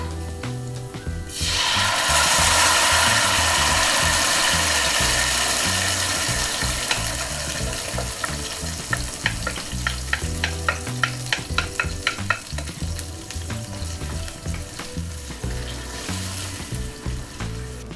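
Tomatoes dropped into a hot pan of fragrant crushed garlic burst into a loud sizzle that gradually settles into steady frying, followed by a run of scraping, clicking stirs near the pan.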